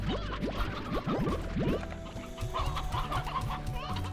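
Chickens in the Slime Rancher video game cluck repeatedly in quick, overlapping bursts, loud and close, with a busy farmyard clatter around them.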